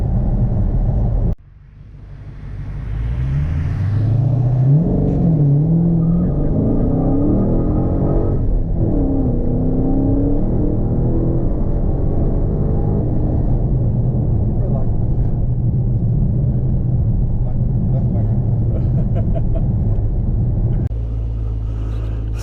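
A Dodge Hellcat engine roars loud and close, revving and accelerating with a deep sustained rumble that runs throughout, as pitch rises and falls through the gears.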